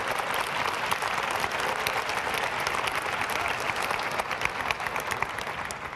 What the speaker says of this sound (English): give the Lord a big hand clap for praise.